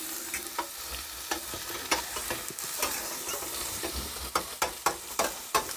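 A smash burger patty fries in a stainless steel pan, a steady sizzle under repeated sharp scraping and clacking strikes from a spatula that grow louder and quicker toward the end.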